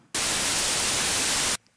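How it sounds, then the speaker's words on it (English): Steady white noise from a 3X OSC software synthesizer switches on abruptly, holds loud and unchanging with a hissy, bright character, then cuts off cleanly, with no voices. "you learned how to generate white noise with 3X OSC"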